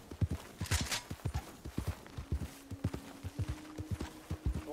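Horse in Red Dead Online, its hooves clip-clopping in a steady walking rhythm throughout, moderately close, with a faint sustained tone partway through.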